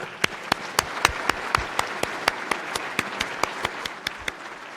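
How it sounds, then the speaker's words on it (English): Audience applause at an engineering awards presentation during the National Academy of Engineering annual meeting: steady, evenly paced sharp claps over a dense, even wash of clapping throughout, with no voices. "Let's give them one more round of applause."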